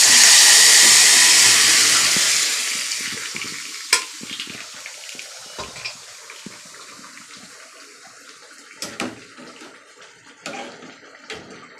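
Cumin, bay leaf and chilli hit hot oil in a pan while mung dal is being cooked, bursting into a loud, bright sizzle. The sizzle fades over a few seconds into quieter crackles and occasional clinks.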